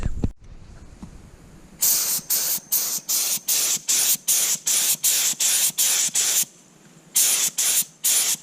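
Air sprayer laying a thick second coat of paint on a school bus conversion, loud hissing bursts in a steady rhythm of roughly one per half second, with a short pause partway through.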